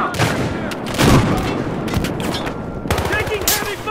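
Rapid bursts of gunfire in a shooter video game, loud and close, with repeated volleys and booms over about four seconds, while voices speak.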